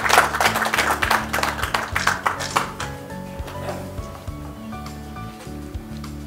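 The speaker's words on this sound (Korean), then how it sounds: "큰 박수 한번 부탁드립니다." Applause from a crowd at an inauguration ceremony for a residents' council leader at Nonsan Cultural Center, loud at first and then fading as steady background music continues underneath.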